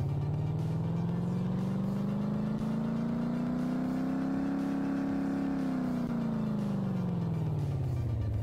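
Car engine in the video game Car Mechanic Simulator 2015 revving on a dyno test run, a steady droning tone that climbs slowly in pitch, holds, then falls back, with no talking.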